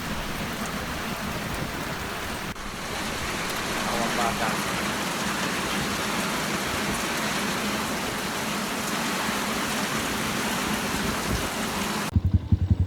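Heavy rain pours down in a dense, constant roar throughout, with a person speaking briefly over the downpour on a motorcycle ride on Gandara Diversion Road.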